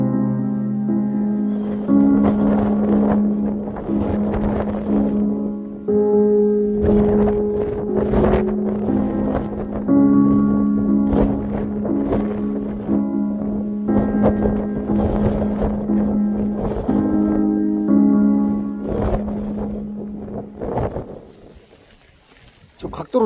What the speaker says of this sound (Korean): 이야, 바람이 엄청납니다.